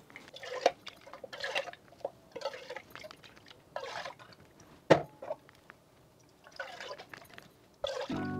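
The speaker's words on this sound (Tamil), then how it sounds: "இந்த 3 டின்னுக்கும் கொஞ்சம் தண்ணியை விட்டு" Hot water is poured into three empty coconut milk tins to rinse them while making coconut oil at home, producing repeated short, soft bursts of splashing and trickling, fairly faint and close, with no talk.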